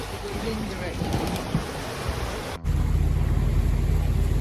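Wind and choppy sea roar around a small boat, a steady rushing wash, joined by a low engine-like drone after a brief dropout partway through.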